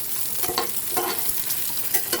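An egg fries in a pan while being stirred, a close, dense sizzle punctuated by a few sharp scraping strokes, with no one speaking.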